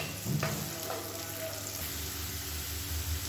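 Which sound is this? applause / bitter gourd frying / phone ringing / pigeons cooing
bitter gourd frying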